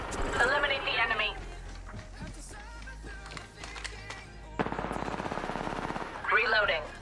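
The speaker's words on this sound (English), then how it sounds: "Opening fire." Bursts of rapid automatic gunfire crackle through a video game battle, mid-level and mixed under spoken game voice callouts and other in-game effects.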